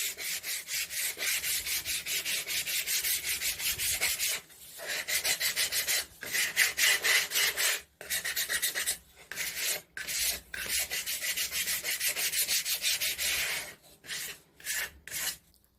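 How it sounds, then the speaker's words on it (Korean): Sandpaper rubbed across a wooden furniture surface during a refinishing project, giving a loud, steady rasping scrape in long continuous strokes broken by several short pauses, with no talking. "고온 사포로 표면을 한번 사포해서 다듬어 줄게요."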